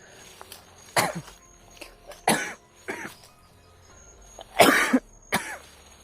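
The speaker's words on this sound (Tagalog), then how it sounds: "Inuubo po ako mga tol dahil sa ulan init" Several separate coughs from one person on a rainy trail, each a sharp burst with short gaps between them, close and fairly loud over quiet background.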